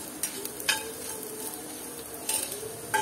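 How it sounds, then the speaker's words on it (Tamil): Coriander dry roasting in a pan over a medium flame, stirred with a faint steady crackle broken by a few sharp scrapes and clinks of the utensil against the pan. "மீடியம் ஃப்ளேமில் வச்சு நல்லா வறுத்துக்கோங்க."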